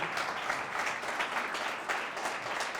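A church congregation claps for the Lord at a worship service, a dense, continuous round of applause from many hands at moderate volume with no voices over it.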